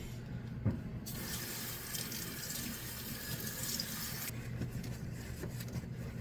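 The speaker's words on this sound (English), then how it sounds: "let me rinse my hands" Hands are rinsed under a running kitchen tap, a steady rushing splash of water that starts after a second, lasts about three seconds, then gives way to quieter room sound.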